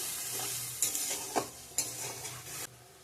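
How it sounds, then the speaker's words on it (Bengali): Spices being stir-fried in a pan for a jackfruit and prawn curry, with a steady sizzle and several scraping spatula strokes, close and clear, no talking. "ভালো করে কষিয়ে নিই"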